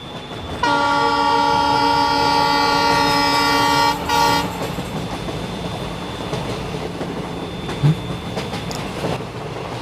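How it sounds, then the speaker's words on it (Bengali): A train arriving at a village station platform at night sounds a long, loud, sustained horn blast, then rumbles and clatters along the line at close range. "এটা তো ট্রেনের শব্দ।"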